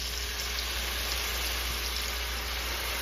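Lamb chops cook in a pan with wine, giving off a steady, even sizzle that holds for the whole stretch with no pauses.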